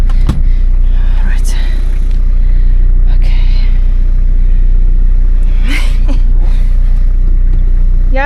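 A 3-litre turbo diesel Toyota Hilux KZ-TE engine rumbles heavily and steadily while driving off-road in South Africa, loud and close inside the cab, with faint voices and creaks over the drone.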